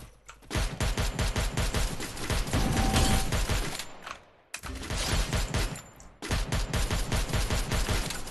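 Rapid, loud gunfire from a squad-based shooter video game pours out in dense bursts, briefly dropping out twice before the shooting resumes.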